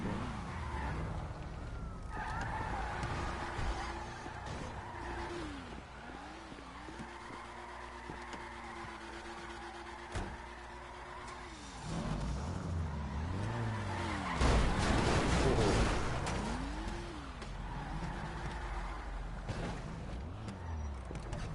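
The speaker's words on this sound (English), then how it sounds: "Park this car the right way." Cars in the video game GTA 5 rev and drive in a street car meet, engines rising and falling in pitch, with a long tyre skid squeal and a loud burst midway, and distant engines underneath.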